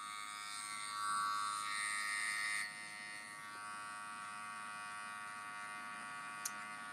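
Electric hair clippers blend a fade at the hairline with a continuous close buzz, swelling slightly as they meet the hair, then settling to a steady hum.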